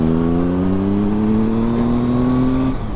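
Triumph Speed Triple 1050 motorcycle engine revving up, a loud, steady rising drone that climbs in pitch for a few seconds before dropping off abruptly, with wind rush around it and no talking.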